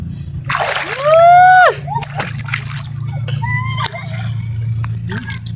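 Sea water splashes and sloshes near the listener in light rain while a voice rises in a long squealing cry, followed by more splashing and chatter.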